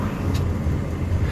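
BMW M5 E60 sedan cruising on the freeway, steady low engine drone with road and wind rumble from inside the cabin, brief and even.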